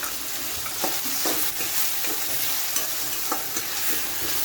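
Vegetables for cabbage manchurian sautéing in a pan with tomatoes, a dense continuous sizzle with soft stirring scrapes throughout, close and fairly loud, no voices.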